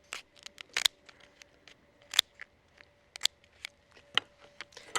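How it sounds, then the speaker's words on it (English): Sturdy scissors snip down the back shell of a Moreton Bay bug, a series of sharp, close crunchy cuts in irregular rhythm over quiet background. "The first step is to cut it down the back using sturdy scissors."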